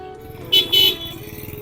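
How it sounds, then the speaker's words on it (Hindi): Two short car horn honks in quick succession, fairly loud against a low background hum of traffic. "यार नेहा, कौन है ये जो सीट में बैठ के हॉर्न बजाना जा रहा है?"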